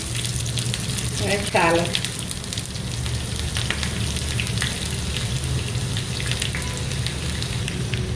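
Mustard seeds and sliced shallots sizzle and crackle in hot oil for a Kerala pineapple pachadi, a continuous close frying hiss with a brief burst of sputtering pops early on, while a voice speaks briefly.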